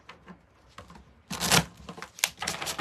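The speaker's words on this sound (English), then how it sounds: "There's nothing better than a good shuffle." A pink deck of playing cards being shuffled by hand, a quiet riffle early on, then a loud, close burst of crisp flapping and clattering bursts that continue in short clustered flurries.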